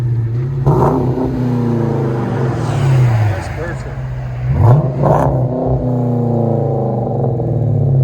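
A Chrysler 300C with a 5.7L HEMI V8 and straight pipe exhaust revs loudly and deeply, with a couple of sharp throttle blips near the middle, while people talk over the steady rumble.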